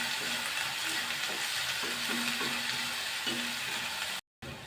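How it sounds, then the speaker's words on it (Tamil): Onions sautéing on low flame in a pan with curry leaves and green chillies for a brinjal tomato curry, a steady close sizzle and crackle with occasional stirring scrapes, ending in a brief cutout. "வெங்காயம் எல்லாம் வதங்கி வருது."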